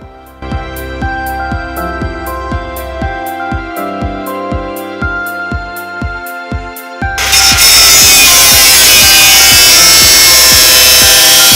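Protruding flue pipe on a camper van roof being cut with a power tool, a loud, rapid, rhythmic buzz that turns into harsh, dense grinding partway through.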